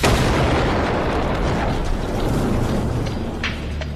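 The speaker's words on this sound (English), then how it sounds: "The cannon blasts with unbelievable power." A huge medieval cannon blast roars and rumbles, a sustained heavy boom with debris crashing and fading over several seconds.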